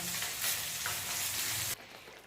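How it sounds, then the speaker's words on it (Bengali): Fish sizzles loudly as it fries in a pan with cumin, chili and a little coriander powder, a dense steady hiss that cuts off abruptly near the end to a much quieter background. "মাছটা শুধু মশলা দিয়ে করছি, জিরে লঙ্কা অল্প একটু ধনের গুঁড়ো দিয়ে।"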